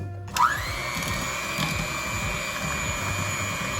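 An electric mixer beats butter and powdered sugar for a Christmas plum cake, starting with a knock and then whirring in a steady, loud, high-pitched drone.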